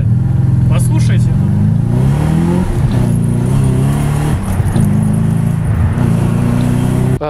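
A BMW E34 540i with its V8 engine runs and revs close by, a loud steady rumble rising and falling, with someone talking over it throughout.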